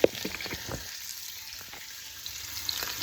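Onions frying until crispy in a pan crackle with a steady close sizzle, broken by a few small pops and stirring scrapes.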